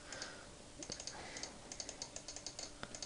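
Fingers type quickly on a computer keyboard, producing a faint, close series of light key clicks in an uneven rhythm over a soft background hum.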